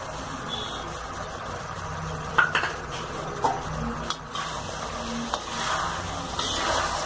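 A spoon stirs pumpkin with sugar in a pan for a sweet-and-sour raw mango pumpkin dish, giving scraping clinks and soft stirring sounds over a steady background hiss, with no talking.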